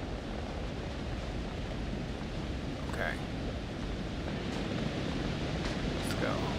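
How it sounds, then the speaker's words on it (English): Running water in the video game Until Dawn gives a steady rushing wash of noise throughout, with a brief word spoken over it. "All right, I hear water."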